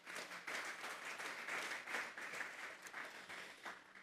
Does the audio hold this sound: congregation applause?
yes